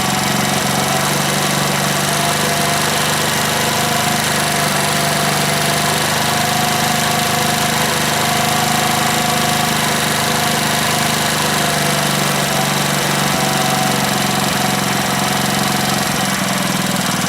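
A Honda Splendor motorcycle engine idles steadily and loudly up close as its idle RPM and air-fuel mixture screw are adjusted, giving a continuous chugging drone with only slight shifts in pitch and no talking.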